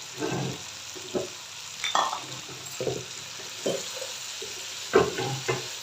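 Shredded cabbage tips into a frying pan with capsicum and other vegetables for a mixed vegetable bhujia, followed by scraping spoon strokes and bursts of sizzling, close and moderately loud, with pauses between the stirs.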